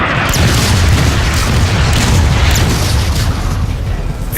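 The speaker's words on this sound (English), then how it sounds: "A strike should help clear the way. Artillery online." Artillery strike explosions in the sci-fi robot war video game Transformers: Fall of Cybertron, a loud continuous rolling boom with deep low rumble and crackling debris throughout.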